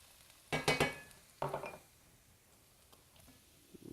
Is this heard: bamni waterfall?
no